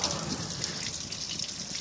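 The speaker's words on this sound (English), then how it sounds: "I'm pumping clear water in here out of the hose that comes from my house." Tap water from a house hose rushes and splashes through a car heater core being flushed, a close, steady gushing stream with small trickling, dribbling variations.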